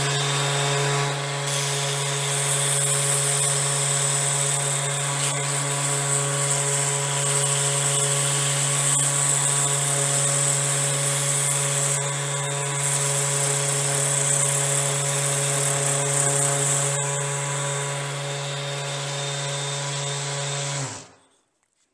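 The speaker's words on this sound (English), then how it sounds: "If we wanted to sand some contoured edges." A power sander mounted on a Woodpeckers Sandstand tilting base hums with a steady high whine while sanding contoured wood edges, running continuously close by before spinning down abruptly at the end.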